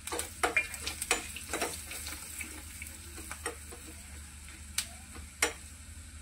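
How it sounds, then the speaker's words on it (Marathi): Chili, turmeric and salt sizzle gently in a pan, with soft scraping stirs and faint clinks over a quiet, continuous frying hiss. "आता इथे मिरची, हळद आणि मीठ हे 3 वस्तू याच्यामध्ये टाकायच्या आहे।"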